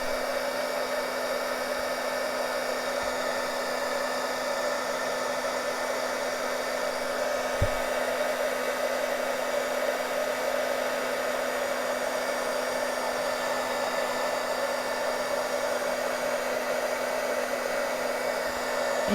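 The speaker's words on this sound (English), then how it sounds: "And all you need is your beeswax and your heat gun." A heat gun blows steadily to melt beeswax onto shipping materials for making covers, giving a continuous loud, even roar with a fixed hum that lasts throughout, with one small knock partway and no talking.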